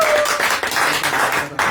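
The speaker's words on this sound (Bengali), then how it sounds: "আবার হাততালি হলো আপনার জন্য।" Clapping breaks out during a live market-bazaar broadcast, loud and close, a brief burst of rapid hand claps running almost the whole moment before a short dip and a final clap.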